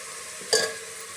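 Grated coconut dropped into a hot frying pan while cooking a spicy village-style chilapi fish curry, giving one brief, bright hiss that swells over a steady low sizzle and then settles back.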